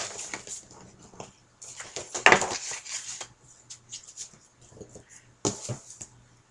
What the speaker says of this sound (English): Then I take my craft knife and just cut around the edge.